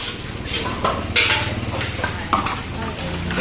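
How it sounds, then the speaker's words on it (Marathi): Household dishes being washed during festival cleaning: a steady clatter of pots and metal utensils knocking together with scraping and splashing, close and continuous, with no clear speech. "बघा भांडी कसं चालू आहे"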